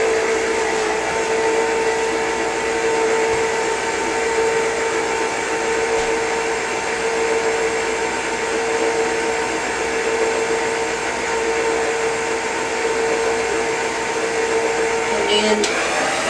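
An electric mixer on slow speed churns sweet potato and coconut pie filling, a steady close motor whir holding evenly without pause and no talking.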